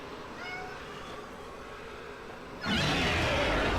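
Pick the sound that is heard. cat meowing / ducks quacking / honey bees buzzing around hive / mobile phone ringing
cat meowing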